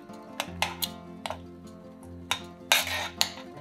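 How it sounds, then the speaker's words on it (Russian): Spoon pressing and scraping softened cranberries in a saucepan with water and sugar, a series of sharp metallic clinks and taps against the pot at an uneven pace, close and fairly quiet with no talk. "Когда ягоды станут мягкими, раздавливаем их ложкой"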